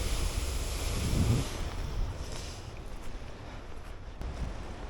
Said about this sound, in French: On a que des grosses vagues qui s'éclatent contre les rochers.